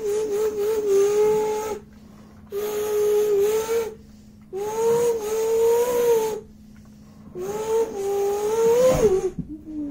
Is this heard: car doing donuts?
yes